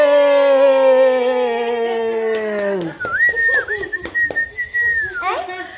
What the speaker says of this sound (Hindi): ये सस्ती वाली सीटी है।